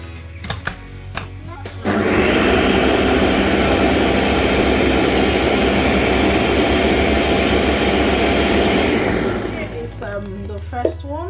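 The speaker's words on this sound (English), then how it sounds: "So I'm just going to blend this now. Sorry about the noise" A loud blender runs continuously for about eight seconds, blending onions, garlic, ginger and scotch bonnet pepper, after brief clattering at the start and before it winds down into quieter kitchen noise.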